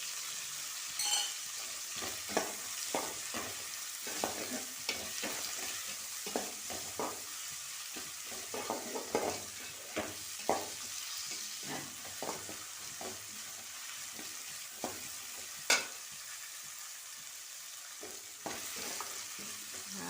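Whole spices, cinnamon and cloves, frying in hot oil in a pan for prawn biryani, a steady close sizzle broken by frequent stirring scrapes and clinks throughout, with no talking.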